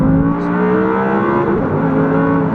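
Audi R8 V10 RWS engine holding a steady, loud high-rev drone, the sustained V10 note alone with no talking.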